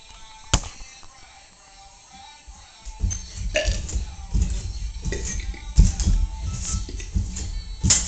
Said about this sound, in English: shall now burp the alphabet while jumping on a trampoline.